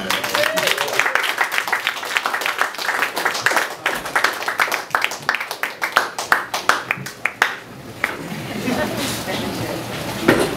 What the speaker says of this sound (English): Give a round of applause for them.